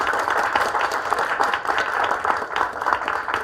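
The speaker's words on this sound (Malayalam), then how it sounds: "എല്ലാവരും ഒന്ന് കൈയടിച്ച്, നന്നായിട്ടൊന്ന്" A group of children claps together on a lively kids' show, producing steady, dense applause that stays loud and close throughout with no break.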